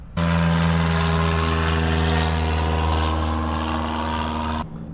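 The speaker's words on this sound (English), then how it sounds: "I've been hearing those planes all morning." A small propeller plane drones overhead near a little airport, its steady engine hum swelling in loudly for several seconds and then cutting away.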